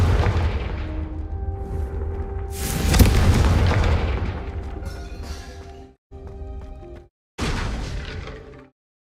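Confringo fire spell blasts in the Hogwarts Legacy video game: a loud booming explosion that swells midway, rumbles on, then cuts off briefly before one more burst and a fading tail, with no talking.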